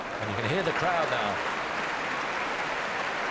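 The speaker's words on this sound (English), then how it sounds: "And you can hear the crowd now" Wimbledon crowd at a 2013 women's singles semi-final tennis match, a broad wash of applause and crowd noise holding steady throughout, with a commentator's voice over the first second or so.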